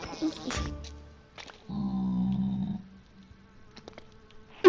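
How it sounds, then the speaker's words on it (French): A mosquito in the Minecraft From The Fog mod buzzes with a thin, whining drone that swells for about a second, amid scattered game clicks and a person talking. "C'est quoi ça? Un moustique?"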